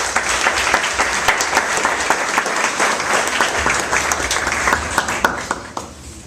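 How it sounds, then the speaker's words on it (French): An audience at a development briefing in Les Cayes, Haiti, bursts into sustained, dense applause for a speaker, loud and steady for several seconds before thinning out at the end. "Je vous demande, chers amis, d'applaudir le docteur Max François Mélier."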